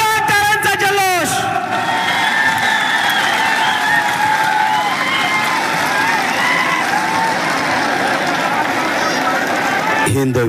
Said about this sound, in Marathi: एकदा जोरदार टाळ्यांचा जल्लोष।